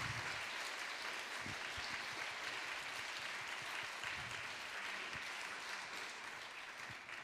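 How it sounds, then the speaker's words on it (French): A ceremony audience applauds the 2022 Prix Ginkgo literary prize winners with sustained, even clapping from a large crowd that holds steady for several seconds and tapers slightly at the end. "Et d'applaudir les lauréates 2022"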